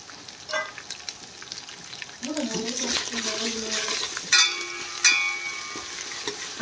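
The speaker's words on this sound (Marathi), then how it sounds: "आता याला 1 मिनिट अर्धा मिनिटभर त्याला छान परतून घेऊया" Spices and asafoetida fry in a pan for yogurt kadhi, a soft close-up sizzle with occasional sharper crackles and a couple of clinks of a utensil.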